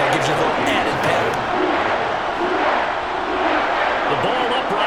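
A steady roar of a stadium home crowd cheering in the Madden 23 football video game during a Vikings vs Saints match, loud and continuous throughout with a dense wash of noise.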